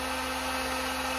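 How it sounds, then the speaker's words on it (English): A steady, airy electric whir with a constant hum, like a heat gun blowing, running continuously up close with no other sounds. "I gotta let my heat gun warm up"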